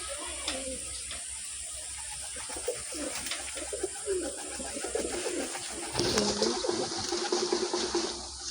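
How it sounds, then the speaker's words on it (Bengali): Pigeons cooing and calling while being fed grain, repeated soft coos and wing flutters close by over a steady background hiss, growing busier toward the end. "দেখুন পায়রা, দেখুন"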